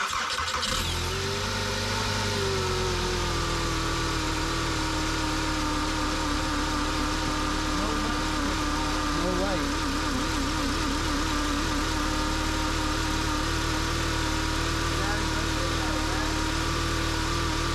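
A car engine cranks and catches near the start, then settles into a steady, loud idle that runs throughout, with a person talking over it at times.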